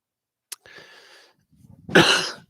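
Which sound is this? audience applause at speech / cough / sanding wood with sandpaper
cough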